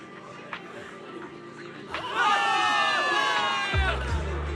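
After a quiet start, a crowd in the video game Zenless Zone Zero bursts into loud, sustained cheering and whooping, with a dull thump near the end.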